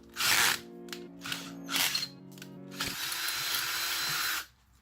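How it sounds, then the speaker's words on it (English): Power drill boring a hole while making a valve spring compressor tool, several short whirring bursts with ratcheting clicks followed by one longer sustained run, close and fairly loud, ending abruptly. "There you go, your hole is drilled."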